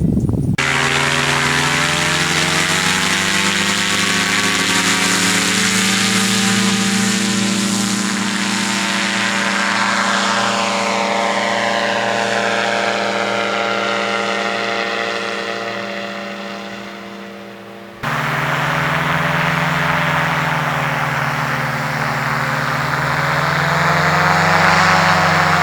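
Powered parachute engine roaring through a takeoff run, heard from a tripod on the ground: a loud, sustained propeller drone whose pitch swells and shifts as the craft passes and moves away, briefly dipping then resuming.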